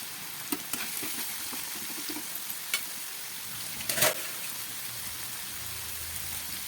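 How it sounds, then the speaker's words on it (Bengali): Chicken frying with turmeric and spices in a pan, a soft, steady hiss of oil broken by occasional light clicks and one sharper clatter from stirring, moderately quiet and close. "চিকেনে হলুদ দিয়ে একবার ভাজা হয়েছে।"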